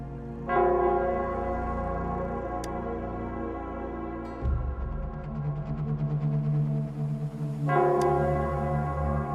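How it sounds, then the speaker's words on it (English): Church bell of Nell Squares in the Wuthering Waves game tolls in three resonant strikes, each with a long ringing decay, the middle one lower and heavier, all loud and alone without speech. "it's the Nell Squares bell"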